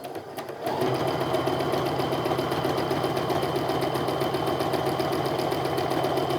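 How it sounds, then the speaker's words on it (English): A sewing machine topstitches a quarter inch from the folded edge of fabric card pockets for a handmade wallet, starting after a brief pause and then running in a fast, steady, close mechanical rattle. "I'm going to go ahead and top stitch 1/4 inch away from my folded edge on all of the"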